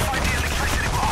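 Dense, continuous gunfire rattles during a Payday The Heist counterfeit job on hard, a mix of overlapping shots with no clear gaps, loud and busy.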